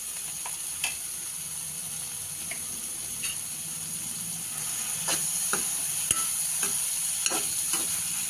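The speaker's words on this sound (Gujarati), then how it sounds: "થોડીક વાર આપણે ધીમા ગેસે આપણે આને સેટ થવા દઈશું।" Masala for masala pav, with salt and turmeric added, cooks gently on a low flame in a pan, giving a soft steady sizzle broken by occasional spoon scrapes and taps. No one speaks.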